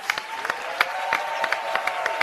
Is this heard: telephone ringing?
no